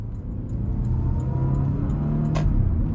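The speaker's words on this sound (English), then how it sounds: "And the sound you get from the engine bay, the sound from the exhaust, it's just absolutely lovely." A 2016 Porsche Cayenne GTS engine rumbles low and deep as it accelerates, its exhaust note rising steadily and loud, with one brief sharp click partway through.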